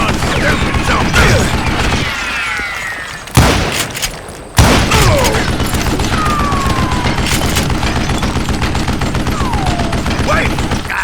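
Gunfire from the Western shooter Call of Juarez Gunslinger rattles in dense, rapid bursts under a steady mechanical clatter, with two sharp loud shots cutting through midway, close and intense throughout.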